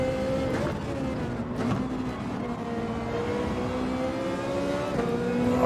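A Ferrari race car in Gran Turismo 7 runs with a steady, loud engine note that rises and falls through gear changes, with no talk over it.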